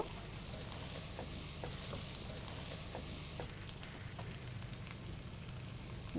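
Whole spices, cinnamon and black cardamom, fry in hot oil with a dense, steady sizzle and scattered small pops and crackles, close and continuous, with no talking.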